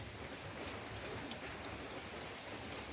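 Steady rain patters on a surface, a dense, even hiss with no breaks or voices.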